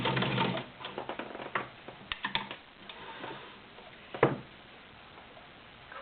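Kenmore Model 1247 sewing machine stitching a zigzag rick-rack pattern at slow speed, a close run of uneven mechanical ticks and clacks with a louder thump near the end.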